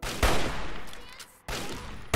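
Loud bursts of gunfire in Fallout 3, with sharp shots at the start and again near the end, separated by a ringing, decaying tail and no speech.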